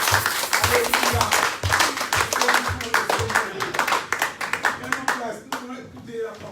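A Pentecost church congregation clapping in a steady rhythmic beat, then breaking into freer applause, with voices calling out and singing over it.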